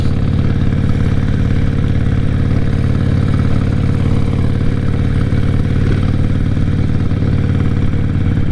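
A Harley-Davidson motorcycle with about 10,000 miles idles close by in a steady, loud, lumpy rumble with fast even pulses and no change in pace.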